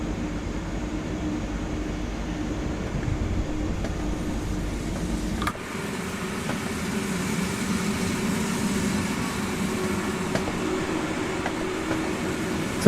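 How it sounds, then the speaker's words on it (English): Steady rolling rumble of a heavy passenger train on the Mittenwaldbahn in Train Sim World, heard from inside a carriage, with faint rhythmic track-joint clicks over a continuous low drone that shifts partway through. "I'm not a fan of TSG's track joint sound. Sounds a bit light for the weight of the train."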